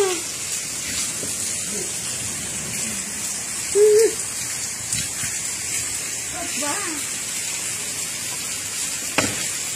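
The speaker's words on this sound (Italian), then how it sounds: "Impressionante, sembra neve, invece è grandine." Hail pours down steadily in Vertova in Val Seriana during a June storm, a dense continuous hiss and patter of ice striking surfaces, with a few brief voices and a sharp knock over it.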